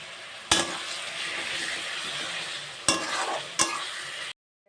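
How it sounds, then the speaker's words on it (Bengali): Chopped tomatoes with a little salt sizzle and fry steadily in a pan, with a few sharp spoon scrapes and clinks against the metal breaking up the constant hiss before it cuts off. "তো অল্প লবণ দিয়ে টমেটোটা আমি সুন্দরভাবে কষিয়ে নেব।"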